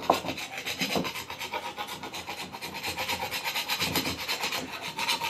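Fresh, still-soft wood glue scraped off glued-up cherry boards held in pipe clamps, a continuous close rasping scrape in quick rhythmic strokes, alone without talking.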